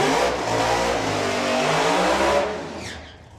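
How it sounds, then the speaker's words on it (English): Drag racing car doing a burnout, a loud sustained engine roar with wailing harmonics that tapers off as the car pulls away, no talk. "Tony getting the hang of the burnout routine"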